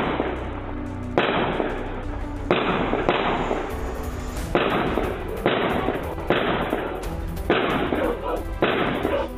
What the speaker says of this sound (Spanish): Más de 25 disparos ocurridos en la comuna de Conchalí, días previos a Navidad